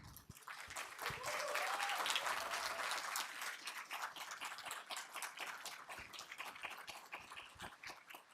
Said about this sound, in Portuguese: eles merecem uma salva de palmas